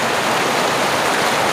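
River water flows through a forest, a steady loud broadband rush with no breaks, close by and alone without voices.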